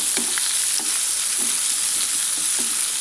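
Two large chopped onions fry in hot oil, giving a loud, continuous close-up sizzle with faint periodic clinks of stirring; no voices.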